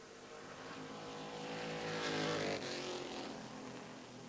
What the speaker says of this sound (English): This machine owned by the Todd Kemp Racing crew.